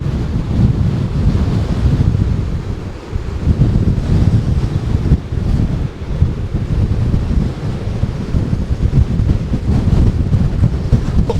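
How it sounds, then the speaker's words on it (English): Strong wind buffets the microphone at a sheltered sand and shingle beach cove at Crackington Haven, a loud continuous roar with surf washing underneath, steady and unbroken throughout. "But the wind really is windy here."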